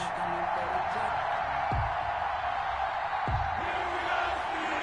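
Broad, constant roar of a large stadium crowd before kickoff of an NFL game between the Tampa Bay Buccaneers and Pittsburgh Steelers, steady and full throughout, with a couple of brief thumps cutting through the din.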